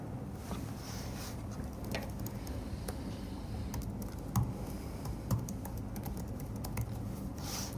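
Someone types on a computer keyboard, with quiet, irregular clicking keystrokes and a few sharper taps over a soft room hum.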